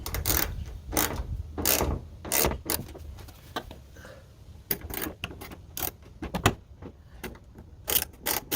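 A ratchet clicks in quick bursts while bolts are tightened on a 2015–2018 Kia Sedona tailgate, sharp metallic ratcheting close up with short pauses between runs, no voices.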